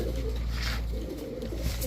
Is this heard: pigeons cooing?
yes